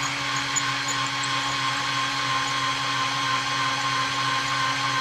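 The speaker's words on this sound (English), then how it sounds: "take it over there to the case prep center and take a little bit off the inside of that" A motorized case prep center trims brass cartridge cases for 45 Cowboy Special, giving a steady, moderately loud electric whine with constant tonal hum and no breaks; no one speaks.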